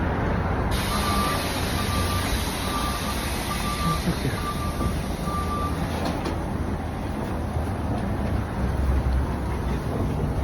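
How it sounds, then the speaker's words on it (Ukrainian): A city bus pulls in with a heavy, steady engine rumble, while a series of evenly spaced electronic beeps sounds over the first half and a short hiss of air cuts in partway through. "Автобус приїхав"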